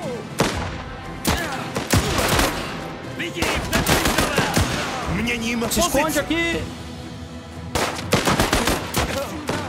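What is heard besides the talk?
gunfire in the video game Last Train Home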